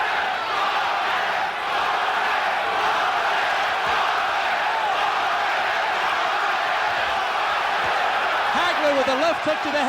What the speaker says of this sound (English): the crowd is chanting Durán's name